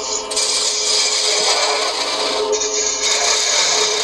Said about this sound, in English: Using a spindle gouge, twisting and pressing, twisting and pushing